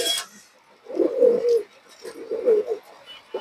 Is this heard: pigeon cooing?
yes